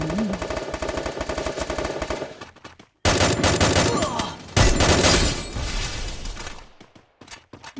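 Rapid automatic gunfire in a shooting video game, a fast rattling stream of shots that cuts off, then resumes in loud dense bursts with abrupt stops and a few trailing shots.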